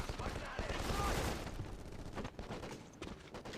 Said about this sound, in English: I just unloaded like a good 10 rounds into him before he died